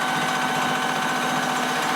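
A Bridgeport milling machine runs steadily during a finish cut, producing a continuous high whine with a constant hum and no voices, close and fairly loud throughout.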